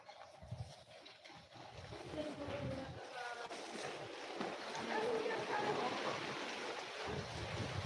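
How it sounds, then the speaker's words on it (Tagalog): Water running and trickling through an outdoor channel or washing spot, a steady broadband rush that swells slightly toward the end, with breezy wind noise and people talking faintly over it. "May umaagos sa tubig."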